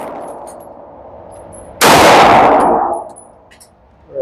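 A single sharp shot from a Sig Sauer P320 xFive DH3 ported pistol, loud and close with a ringing decay, alone in a quiet outdoor setting.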